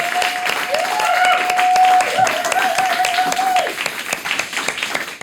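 A talk-show audience claps steadily after a guest's panel answers on masculinity and sexuality, full and even at first, then thinning and fading toward the end, with a faint tonal hum running under it.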